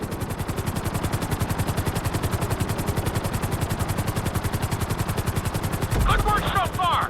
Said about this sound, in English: keep the nose of the helicopter tipped